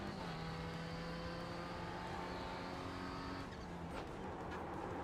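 A Renault Clio race car engine in the iRacing sim holds a loud, steady drone with a strong harmonic whine that shifts near the end, accompanied by some tyre noise.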